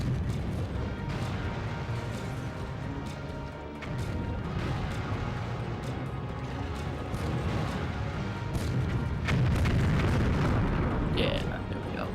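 Booming grenade explosions in the tank combat video game BattleTanx, dense and continuous under game noise, with a louder burst of blasts near the end while a person talks over the action.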